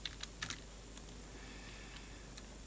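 Quiet bursts of typing on a computer keyboard, a few quick key clicks near the start followed by sparse, faint taps, alone in a quiet room.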